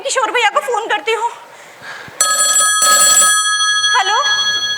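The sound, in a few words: telephone ringing during a call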